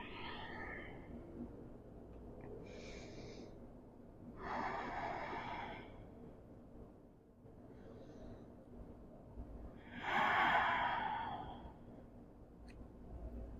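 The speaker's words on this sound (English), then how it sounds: "Take 3 breaths." Slow, deep breaths taken during a yoga rest pose, three soft airy inhale-exhale bursts spaced several seconds apart, quiet and close with a faint background hum.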